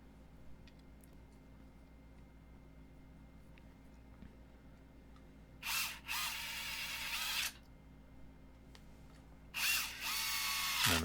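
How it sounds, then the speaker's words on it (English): Two short bursts of a power drill driving self-tapping screws into the plastic housing of a Dremel 395 rotary tool, the second run cutting off at the end, each a bright whirring spin over a quiet background. "I think I had this drill set at like a 4 on the little torsion."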